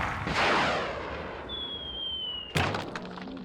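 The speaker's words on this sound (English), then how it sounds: "a man will be shot out of a cannon" A circus cannon fires a man from its barrel: a rushing whoosh, a long whistling tone, then a single sharp bang near the end, with no talking.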